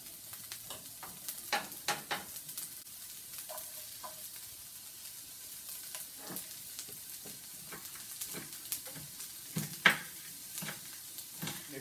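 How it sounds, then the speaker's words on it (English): Garlic, onion, mushroom and pepper sauté in a pan with a quiet, continuous sizzle and frequent scattered stirring clicks and scrapes of a utensil, close by and without talk. "we're just gonna saute these for a couple of minutes"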